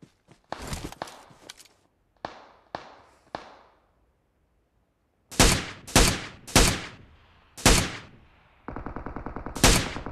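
Sharp gunshots in PUBG Mobile on the Sanhok map, a solo match: a few scattered single shots, then several loud spaced blasts, ending in a rapid automatic burst.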